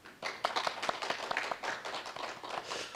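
Clapping from a forum audience welcoming a KOTRA executive to the podium before his talk on overseas corporate ESG cases, a steady spread of many hands patting throughout, fairly close and without speech.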